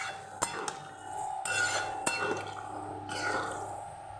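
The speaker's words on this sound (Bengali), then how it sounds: "পুরো জিনিসটা এবার খুব ভালো করে নেড়ে দিতে হবে।" Peas are stirred into keema curry in a pan, with a few light clinks of the utensil and soft wet scraping over a low steady background hum, close and fairly quiet.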